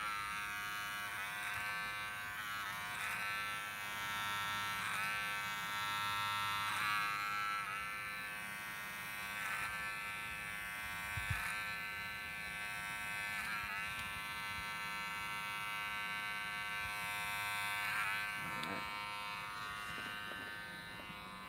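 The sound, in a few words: electric hair clipper buzzing, clipper over comb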